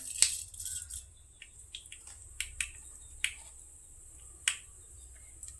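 Mustard seeds crackle in hot coconut oil in a pan, tempering for thayir vada: a scattering of sharp, irregular pops and snaps over a quiet background, with no voices.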